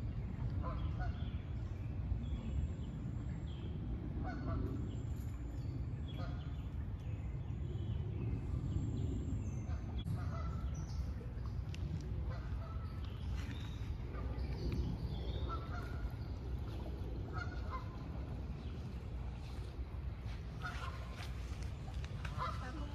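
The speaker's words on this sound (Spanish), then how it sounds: "Realmente no puedo ver las aves, pero sí se escuchan muchas." A flock of geese honking repeatedly at a distance at Overbrook Park Bird Sanctuary, overlapping calls in a steady din alongside other bird sounds, with occasional talk mixed in.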